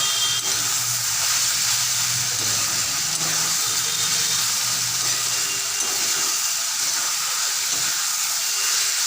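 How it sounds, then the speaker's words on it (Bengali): Vegetables and chicken stir-fried together in a pan for homemade chicken chowmein, giving a steady close sizzle and hiss that runs unbroken throughout with no talk. "এবারে সমস্ত সবজি এবং চিকেনটা দিয়ে ভালো করে নেড়ে চেড়ে"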